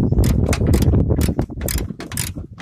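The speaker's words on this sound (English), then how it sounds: "Tightening these fender bolts." A ratchet tightens fender bolts on a third-generation Chevrolet Camaro drag car, giving fast, close bursts of loud metallic clicking in short repeated strokes.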